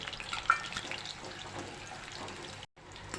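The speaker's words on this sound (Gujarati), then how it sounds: "તો હવે આપણે શક્કરિયા તળી" Sweet potatoes deep-frying in hot oil for Surat-style green undhiyu, giving a steady close bubbling hiss with a brief silent gap near the end.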